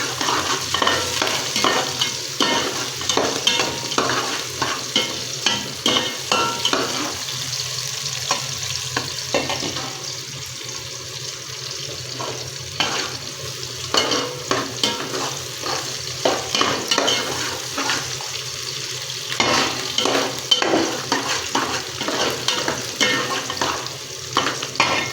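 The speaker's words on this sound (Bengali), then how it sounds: "আপনারা এভাবে 2 থেকে 3 মিনিট পেঁয়াজটা ভালোভাবে সিদ্ধ করে নেবেন, ভাজা হয়ে যাবে" Sliced onions frying with cumin, dried and green chillies in a pan for a chicken brain curry, a continuous close sizzle broken by repeated rhythmic spatula scrapes and stirring clatter, with no voices.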